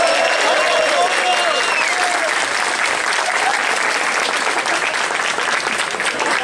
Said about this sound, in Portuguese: Uma salva de palmas pro nosso baterista do Quartos